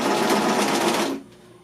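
A sewing machine runs slowly, stitching bias binding onto the edge of fabric, a close, even rapid whir of needle strokes that stops abruptly near the end, leaving a quiet hum.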